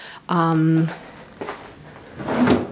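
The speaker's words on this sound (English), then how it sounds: "the drawers slide very well" Hotel room drawers in a Las Vegas Mirage corner room slide open and shut, giving a few soft scraping and bumping sounds at close range, with a voice talking over part of the motion.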